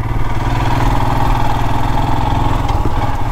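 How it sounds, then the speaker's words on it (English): A Royal Enfield Himalayan motorcycle engine runs loud and close on a gravel road, a steady throbbing single-cylinder drone held at moderate revs without letting up, with no talk. "I've got to take it a little bit easy, guys, just with the revving of the engine and everything"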